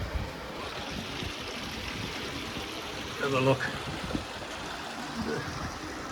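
Cox Brook stream flowing steadily beneath the Upper Cox Brook covered bridge in Northfield, Vermont, a continuous broad wash of running water with a voice speaking briefly over it.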